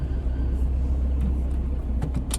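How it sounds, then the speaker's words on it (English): A car driving on the road heard from inside: a steady low engine and road rumble with a few faint ticks and clicks near the end. "I am literally driving off the road."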